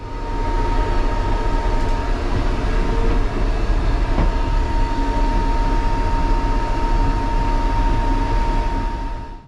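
A Northern passenger train runs at a steady, loud roar as it pulls into Barnsley, heard from inside the carriage, with a constant rumble, a faint whine and occasional light clicks from the track.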